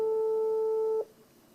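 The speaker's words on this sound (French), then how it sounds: "je mets le haut-parleur, on va entendre que ça sonne" A GPS tracker's phone line rings over speakerphone, giving one steady electronic tone that holds for about a second and then cuts off into quiet room hiss.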